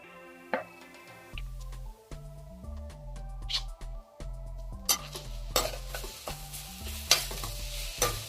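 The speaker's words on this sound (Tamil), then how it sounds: "கொஞ்சமாக எண்ணெய் சேர்த்துக்கிறோம். வெங்காயம் போட்டுக்கிறோம்." Onions frying in a little oil in a hot wok, with light sizzling and sharp stirring clinks of a utensil against the metal under steady background music.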